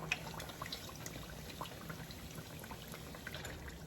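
Liquid is poured out of a cooking pan while making a chalupa, a faint, steady trickle with soft crackling that runs unbroken throughout.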